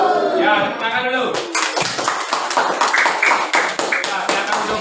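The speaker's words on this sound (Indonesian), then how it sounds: "Ya, tepuk tangan dulu." Classroom of children clapping hands together in a burst of many overlapping claps after a teacher's chant, loud and close, continuing steadily for several seconds under a lively room.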